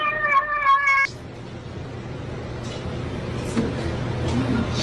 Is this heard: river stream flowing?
no